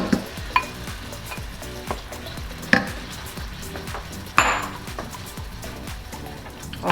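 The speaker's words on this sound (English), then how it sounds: "You hear that sizzle? I love that sound. Here we go. I'm adding the salsa." Homemade salsa hits a hot pan and sizzles steadily and up close, with occasional sharper spatters and pops breaking through the frying hiss.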